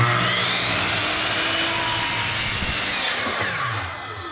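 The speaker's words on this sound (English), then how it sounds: "we're gonna set the miter saw to a 10 degree angle" A miter saw set to a 10-degree angle cuts through a 2x6 wood board, a loud continuous sawing whine close by that tapers off near the end.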